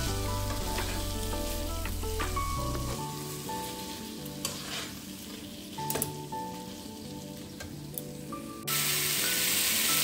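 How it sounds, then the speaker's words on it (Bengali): Minced chicken keema fries in spiced masala over a high flame, crackling and sizzling with spoon stirs and scrapes, close and loud, swelling into a stronger hiss near the end, with no talking. "চিকেনগুলো আমি একটু হাই ফ্লেমে এখন একটু ভাজা ভাজা করব।"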